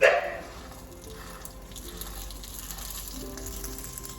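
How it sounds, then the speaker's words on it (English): Butter, less than a tablespoon, melting in a non-stick pan for frying an egg, giving a soft steady sizzle with a brief louder burst at the start, close and alone. "I'm melting some butter here for my egg"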